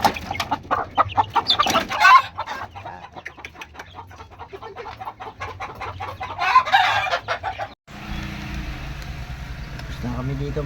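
Chickens cluck around a home yard with hens and their chicks, steady close clucking with a rooster crowing at points, people talking in the background, and a change in the surroundings near the end.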